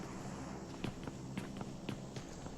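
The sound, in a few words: footsteps in a video game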